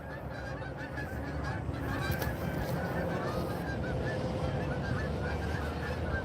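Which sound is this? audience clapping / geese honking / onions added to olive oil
geese honking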